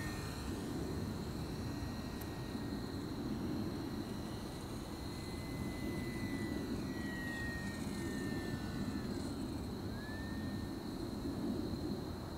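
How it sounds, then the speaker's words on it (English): A HobbyZone Apprentice STOL S 700mm RC model plane flies inverted at around 60% throttle and up, its steady electric motor whine droning continuously with a faint shifting pitch. "The Apprentice STOL S flies inverted well."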